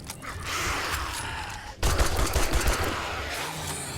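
Gunfire in the 7 Days to Die survival game, a quick burst of shots that drops out, then a second louder volley of several cracks close by, with muffled action behind.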